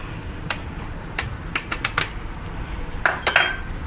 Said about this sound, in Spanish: lo tamizamos para quitarle los grumos que pueda tener la harina y la maicena